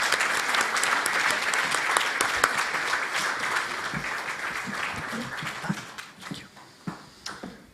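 At a smart cities and sport summit opening session, an audience gives a speaker a round of applause: thick, sustained clapping that thins into scattered individual claps near the end.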